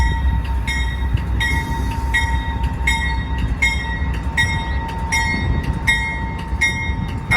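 Hiawatha passenger train rolling slowly through Glenview station, its steady rumble of wheels and cars running throughout, with a rhythmic series of repeated clicks or clacks at regular intervals, close and loud.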